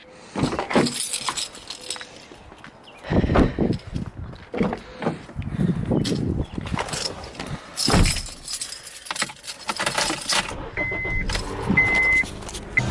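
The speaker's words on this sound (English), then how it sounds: "While I give my car a second to warm up" A car engine warms up at a low, steady idle, mostly buried under nearby clunks, rustling and jangling keys, with a few faint beeps toward the end.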